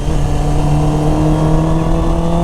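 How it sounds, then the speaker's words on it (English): A Honda CBR650R motorcycle engine with a full-system aftermarket exhaust, baffle left in, runs steadily, a deep throaty drone holding constant and loud throughout, with no talking. "install the Sprocket exhaust you hear on it"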